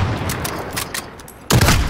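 Gunfire in a Call of Duty Modern Warfare 1v1 match: a near burst of shots lands late after quieter scattered crackle, with no talk.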